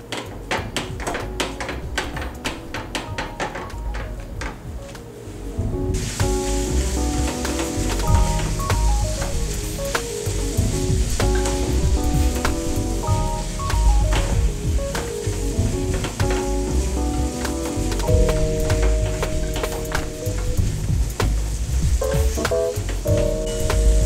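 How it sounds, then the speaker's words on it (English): Italian sausage meat browns over medium heat in a pot, giving a steady sizzle broken by repeated spoon taps and scrapes as the meat is broken up. Quiet background music plays throughout, and no one speaks. "break this up and over medium heat brown the meat"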